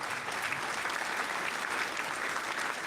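Canned applause from a sound-effect button fills the whole stretch, a steady, even wash of many clapping hands with no pauses and no talking.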